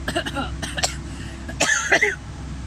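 A few harsh coughs and throat-clearing bursts from a nearby person, spaced irregularly over a couple of seconds.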